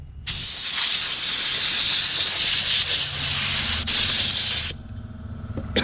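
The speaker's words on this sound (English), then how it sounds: "So you want to make sure to blow all the dust out of these cracks and crevices in there." Compressed air blasts dust out of the cracks of a carved wooden sign made from carving cut-offs, a loud steady hiss running for about four and a half seconds before cutting off, then a quieter hum.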